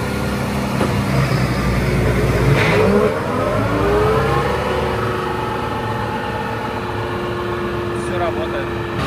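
A heavy Valtra T235 tractor engine rumbles and revs up at its first start, its pitch rising and settling into a steady drone, with voices faintly underneath.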